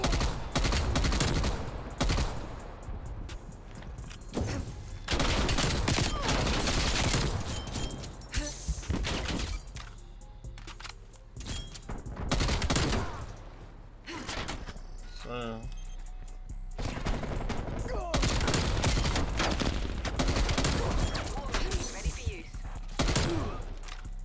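Gunfire in Black Ops Cold War, with a KSP 45 in play: repeated sharp bursts of automatic fire crack loudly in clusters across the stretch, with short quieter gaps and game sounds in between, and a voice talking at times.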